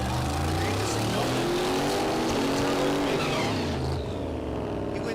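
The Meltdown Firebird drag car at Mid America Dragway, Kansas, roars loudly and continuously with a rising, revving engine note, a crowd-level din and some voices underneath.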